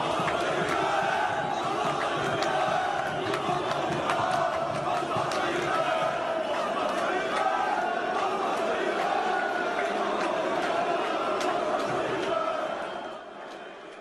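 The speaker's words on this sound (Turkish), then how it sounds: "Dev derbide rakipler maçı izlemeye gelen İmamoğlu için belki de ilk kez aynı tezahüratı yaparak mazbatayı ver şeklinde seslendi" A large crowd of football fans at the Fenerbahçe–Galatasaray derby chants in unison, a dense roaring mass of voices that holds steady before fading out at the end.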